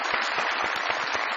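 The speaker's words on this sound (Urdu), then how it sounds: "تالیاں" Television studio audience applauding, a dense and steady burst of many hands clapping together at close range.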